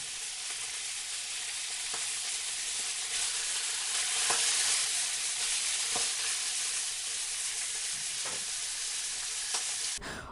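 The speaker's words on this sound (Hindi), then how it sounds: "अब फाइनल फ्राई करते हैं। गैस फुल रखो" French fries sizzle in hot oil during their final deep fry on full heat, a dense, steady hiss with occasional soft clinks and stirs, close and continuous.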